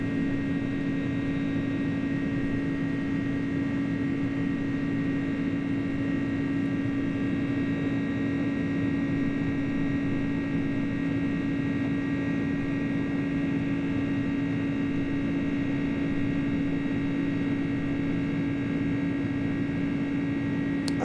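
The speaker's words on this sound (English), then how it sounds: "I think this airplane sounds so much better when it's like in the climb than it does on the takeoff roll." Twin jet engines of an iniBuilds A300 airliner drone steadily while climbing in Microsoft Flight Simulator 2024, a continuous, even hum with a sustained low tone and broad rushing noise throughout.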